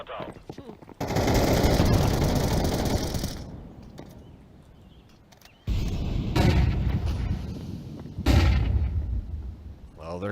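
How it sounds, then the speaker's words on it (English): Loud, sustained automatic gunfire in the video game Arma 3 comes in long roaring bursts, with a heavy blast that could be a flashbang grenade and a voice talking amid the shooting. "Deploying flashbang."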